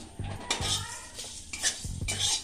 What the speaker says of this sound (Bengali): দেখুন আমি শুকনো খোলায় এগুলো ভেজে নিচ্ছি একটু শুকনো লঙ্কা দিচ্ছি